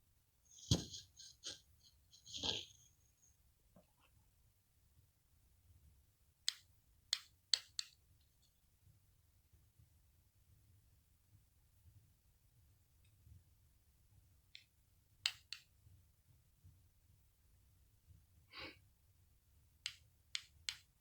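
Dull scissors cut felt while a felt carousel rooster is made, giving sparse, sharp, close snips and clicks, some in quick pairs, with quiet gaps between them.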